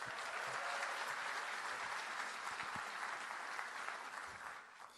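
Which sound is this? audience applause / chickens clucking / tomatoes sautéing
audience applause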